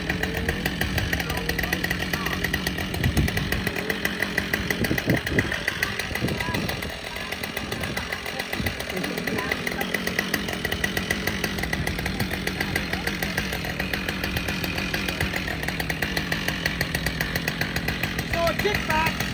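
A chainsaw runs steadily at close range through the whole stretch, a dense buzzing drone with a brief dip midway, at a Paul Bunyan public demonstration.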